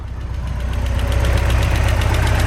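Steady Porsche 944 engine idle with a low, even rumble and a rapid rhythmic ticking of loud fuel injectors over it, holding constant throughout without revving.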